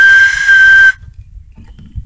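A handmade clay whistle blown hard, giving a loud, piercing steady tone with a breathy edge that lasts just under a second and then cuts off, leaving faint low rumble.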